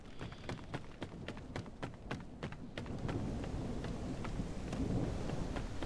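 Rain and thunder in the survival video game No One Survives: a steady downpour with repeated sharp crackling thunder strikes early on, giving way to a louder, denser wash of rain.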